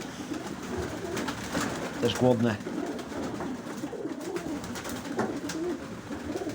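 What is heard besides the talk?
pigeons cooing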